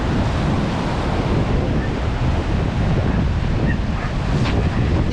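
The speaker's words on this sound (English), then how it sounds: "It's really nice watching the waves." Ocean waves break on the shore in a continuous loud roar, with heavy wind buffeting the microphone throughout and no speech.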